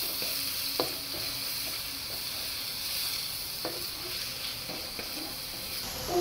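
Onions sizzle in hot oil in a pan while being cooked for pineapple fried rice on Koh Samui, Thailand, a steady soft frying hiss punctuated by occasional clicks of the stirring utensil against the pan.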